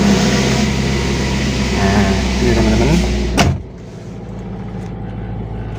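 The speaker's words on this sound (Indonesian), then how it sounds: "Bismillah, saya coba nyalakan mesinnya." A car engine cranks and fires up during a warm-up, rumbling loudly before a sharp transient and then settling into a quieter, steady idle, with someone speaking briefly near the end.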